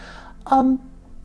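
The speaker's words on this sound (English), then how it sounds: "sorry about that dog barking" A dog gives a single short bark at moderate distance indoors, a brief harmonic burst standing out over quiet room tone.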